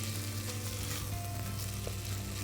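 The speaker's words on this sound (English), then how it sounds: "we fry it, we saute it like for a minute" Spices and dal makhani frying and sautéing in a pan, a steady close sizzle with faint stirring, continuous and fairly quiet with no voices.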